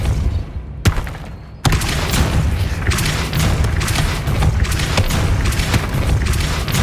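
Depulso repelling spell cast in Hogwarts Legacy, with a sharp crack, then a dense stretch of loud booming, rumbling blasts that continue without a break.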